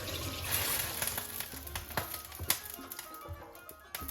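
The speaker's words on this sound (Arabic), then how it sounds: "نحلهم بالماء" Water is poured into a pepper paste mixture for a sauce, heard close as a clattering splash and trickle with small knocks throughout, and no speech.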